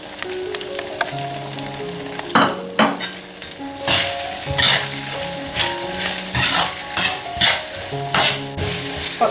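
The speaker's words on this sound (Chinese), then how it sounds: "这时候下葱蒜，也是留一小点儿" Chopped scallions and garlic hit hot oil in a wok while cooking Sichuan boiled fish in chilli oil, a bright crackling sizzle broken by repeated clanks and scrapes of a spatula stirring, close and lively.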